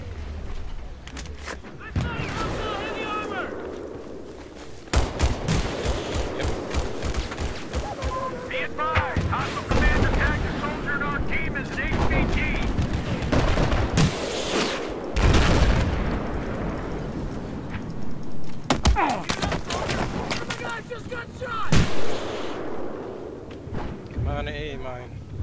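Gunfire and explosions in the Battlefield 4 video game, with bursts of shots and heavy booms scattered irregularly through the stretch, mixed under frequent talking.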